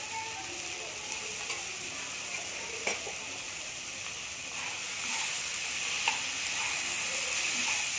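Spice paste of turmeric, cumin, ginger and chili being sautéed with potatoes in a pan for a fish curry, giving a steady, moderately loud sizzle with occasional soft stirring knocks and no speech.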